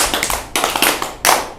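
A group claps a rhythmic five-count pattern in a classroom-style exercise, a few sharp bursts of many hands close and loud with short gaps between them.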